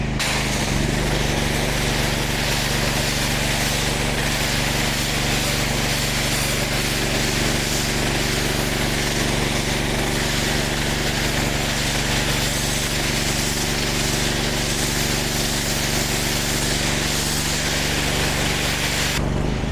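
A 5000 psi, 21 lpm hot water pressure cleaner with a steel coil runs during cool-down, giving a loud, constant engine-and-pump drone with a steady low hum that never lets up.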